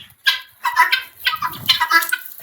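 Chickens in a home garden cluck in short bursts, loud and close, with a brief low flutter or rustle in the middle. No one speaks.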